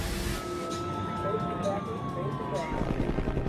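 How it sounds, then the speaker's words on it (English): Sirens from emergency vehicles wail at a burning airliner crash site where rescue helicopters and ambulances evacuate survivors, a steady tone gliding slowly downward over dense rumbling background noise, with voices present. "9 helicopters and 34 ambulances evacuate survivors"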